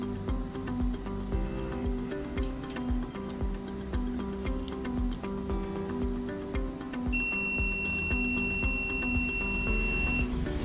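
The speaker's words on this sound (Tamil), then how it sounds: "இந்த பீப் வர்றதுனால நீங்கள் ஷார்ட்டுங்கிறத எடுத்துக்க வேண்டாம்" A multimeter beeps during a check of the display lines on a Samsung A10s phone, a steady high electronic tone sounding from partway through over a busy repair-bench background.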